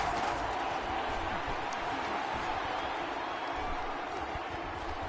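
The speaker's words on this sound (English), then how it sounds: "the crowd getting into it as we come up on a big 3rd down" A football stadium crowd builds ahead of a big third down, a steady, wash-like roar of many voices filling the air continuously at a moderate, distant level.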